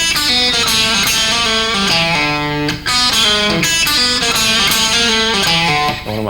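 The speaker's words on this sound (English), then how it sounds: "Little blues thing. A little slide." Electric guitar playing a blues lick with sliding notes, a rock player's lesson demo; bright sustained tones glide between pitches in a steady phrase, loud and close, with a brief gap near the end and no talking.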